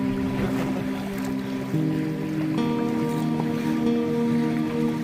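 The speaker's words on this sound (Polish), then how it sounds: "Ależ nam tu fale no." Sea waves slosh around a kayak off the Sardinian coast in a steady close wash of water, with no one speaking.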